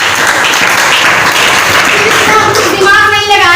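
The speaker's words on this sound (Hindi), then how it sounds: "जोरदार ताली" Loud applause from an audience at a DXN gathering, a dense burst of clapping that carries through the whole stretch, with a voice rising at the end.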